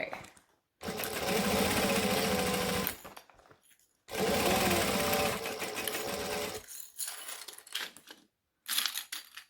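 A sewing machine stitches a fabric bag in loud, fast bursts of running needle clatter, broken by short pauses, with a few quieter handling sounds near the end.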